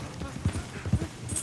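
A horse trots in the Red Dead Redemption 2 video game, its hooves sounding a few quick, uneven clip-clops up close over a low background bed.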